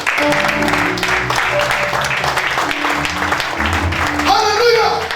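A church congregation applauds the Lord, steady clapping and cheering filling the hall throughout, mixed with sustained music and voices.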